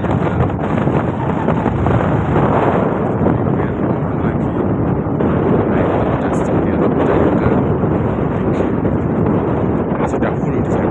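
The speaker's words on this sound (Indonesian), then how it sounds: "Anginnya kencang." Strong wind roars and buffets continuously against the microphone on the Mount Agung summit trail in Bali, loud and unbroken, with a voice faintly audible beneath it.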